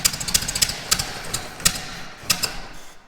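A 1924 Model T Ford engine that has sat unused for years sputters as it tries to start, giving irregular ticking and popping pulses over a low rumble, with no talk.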